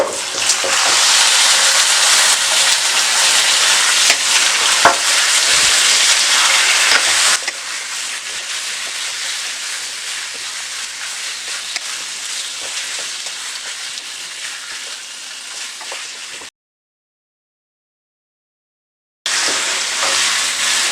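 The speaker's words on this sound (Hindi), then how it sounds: "अब आप देखें बीफ को मैंने फ्राई कर लिया है।" Beef fries with onions in a pot, producing a loud, constant hiss and crackle that eases slightly partway through, then cuts to a few seconds of silence before the sizzle returns.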